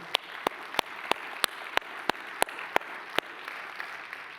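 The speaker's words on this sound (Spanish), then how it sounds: "Dale un fuerte aplauso al Señor" A church congregation clapping in unison, sharp evenly spaced claps about three per second over a general wash of applause, moderately distant and steady, fading slightly at the end.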